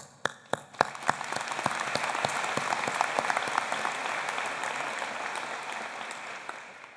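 Applause at a spring university convocation for education graduates: a few sharp claps start it, then dense, steady clapping from a large audience swells and carries on for several seconds before thinning.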